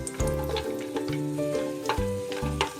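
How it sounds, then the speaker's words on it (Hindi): Sun-dried lentil badi frying in hot oil in a kadhai, a close, steady sizzle broken by repeated scraping and stirring strokes at a loose rhythm, with no talking. "तेल हमारा गर्म हो चुका है, इसके अंदर हम बड़ी को डाल देंगे और इसे हल्का सा ब्राउन"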